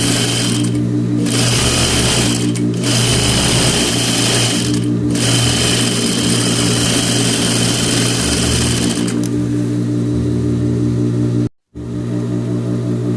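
A sewing machine stitches a blouse seam, running half a centimetre inside the folded edge. Its loud, steady mechanical whir holds for several seconds with short pauses, then stops briefly before running on again.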